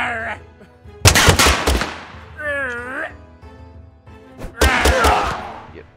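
Gunfire in the battle game Totally Accurate Battle Simulator: two loud, close bursts of shots about three seconds apart, with someone talking over and between them.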